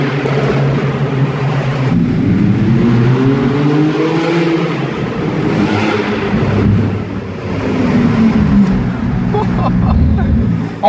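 Engine of a 2018 Porsche 911 Turbo S cabriolet accelerating, a loud steady roar with rising harmonic sweeps as it pulls through the gears, heard continuously from inside the open car.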